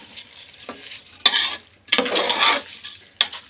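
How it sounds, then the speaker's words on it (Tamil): A spoon scrapes and stirs rice in a metal pot for chicken biryani, in three separate bursts of gritty scraping with quiet pauses between them. "இதுவும் நல்லா போட்டு மிக்ஸ் பண்ணிடுங்க"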